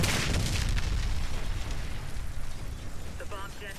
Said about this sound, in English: The bomb detonated.